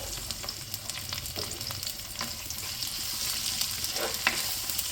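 Chopped onions sautéing with ginger in a pan for a coconut milk fish curry, a dense continuous sizzle with frequent clicks and scrapes of stirring, close and fairly loud.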